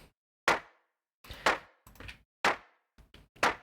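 A synthesized clap from the Surge wavetable synth, processed with distortion and reverb, hits six times at an uneven pace, each burst gritty and short with a brief tail.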